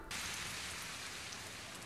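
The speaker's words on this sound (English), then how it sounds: "What a downpour." Heavy rain in the VR game Ruinsmagus: a dense, even downpour hissing steadily and close, starting abruptly and continuing without a break, with no voices.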